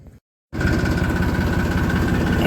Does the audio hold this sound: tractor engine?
yes